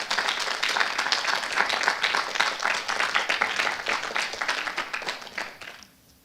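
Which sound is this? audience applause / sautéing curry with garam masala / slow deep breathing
audience applause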